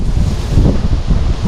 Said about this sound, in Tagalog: Grabe na hangin.